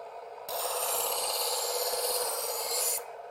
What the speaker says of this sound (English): lower the heel of the blade down until you hear the grinding noise, and then pull the knife through at a consistent speed